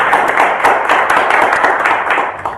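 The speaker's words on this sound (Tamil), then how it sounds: "உங்கள் கரகோஷத்தை கேட்பது இந்த கவிஞனின் எதிர்பார்ப்பு" A theatre audience claps steadily for a Tamil poet, dense applause filling the whole stretch at a constant loud level with no voices over it.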